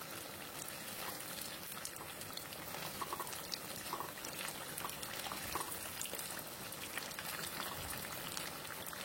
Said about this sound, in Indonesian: Ini cipuknya sudah dingin, goreng dalam minyak panas, api sedang cenderung kecil.